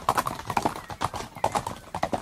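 Horses' hooves clip-clop steadily in a quick, rhythmic gait nearby on a hard surface, with a faint whinny-like note mixed in.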